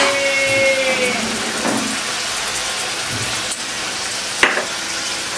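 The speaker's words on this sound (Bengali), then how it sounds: "এখন জাস্ট একটু ভালো করে কষিয়ে নিচ্ছে।" Steady loud sizzling of chicken curry frying in a pan, about 1.5 kilos of country chicken being stirred, with a continuous hiss and a couple of sharp scraping clinks of the spoon against the pan.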